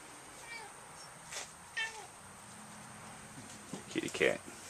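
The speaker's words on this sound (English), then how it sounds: "Kitty cat." A cat meows a few times, faint and fairly close, in a quiet room where people sit making a Spanish net by hand.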